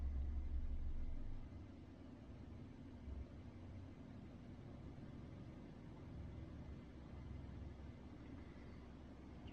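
A 2008 Suzuki Swift engine idles at about 650 RPM, a faint steady low rumble with a louder start that settles into an even hum.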